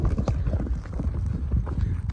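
Hooves of a young two-year-old racehorse colt clip-clop in a quick, steady rhythm of close, loud thuds, continuous throughout with no talk.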